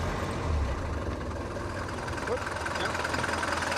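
A Mercedes-Benz W123 with a 2.4-liter engine and 1.3 million kilometers runs with a steady low rumble, close and fairly loud, while a voice talks over it.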